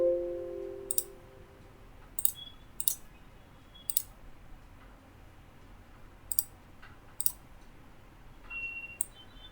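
Sharp, isolated mouse clicks, about eight of them, spaced irregularly over a quiet background, close and crisp with no talking.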